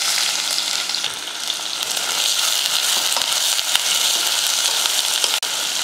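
Onion sautés in oil with whole spices until golden, producing a loud, close, crackling sizzle that runs continuously with occasional utensil clicks and no speech.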